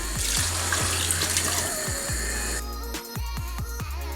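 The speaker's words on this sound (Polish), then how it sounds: "Wlewamy bulion." Broth pours steadily into a pot with a continuous splashing, trickling rush, close up, then tapers into lighter drips and clinks near the end.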